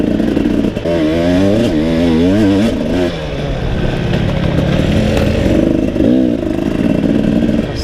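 A 2018 KTM 300 enduro two-stroke revs hard with the clutch slipped during a hare scramble race, its rising and falling engine note continuous and close, with clattering from the trail mixed in.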